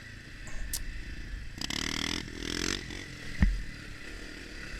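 Honda CRF250F trail bike, a 2020 model, running over bumps and ruts on a trail, with an engine drone under scraping and clattering suspension knocks and one sharp jolt near the end.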